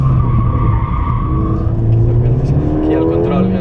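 A Ford Fiesta ST200 is driven hard on the Can Padró test track, its engine roaring loud and close as the tyres skid and squeal through a fast corner, with a voice talking over it.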